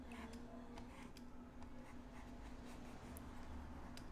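Marker or pen sketching a tree on a classroom board, producing quick, close squeaky strokes and soft ticking taps in a steady rhythm, with no talk.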